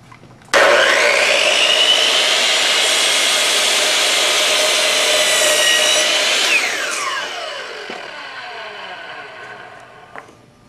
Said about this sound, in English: Tighten the miter gauge, and now we're going to make our cut, and it will go exactly along this line.